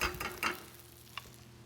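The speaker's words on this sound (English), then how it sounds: "Get my eggs right in the hot pan." Whipped eggs for a frittata hitting a hot pan, with a soft sizzle and a few stirring scrapes and light clicks, fairly quiet.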